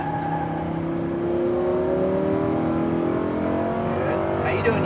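A Lamborghini Huracan engine pulls hard on a race track, its pitch climbing smoothly in a loud, continuous roar heard from inside the car.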